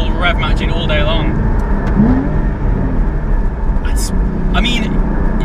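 Porsche 911 Carrera S engine blipping and revving as it rev-matches, a loud, close mechanical drone with short rises in pitch, heard under someone talking throughout.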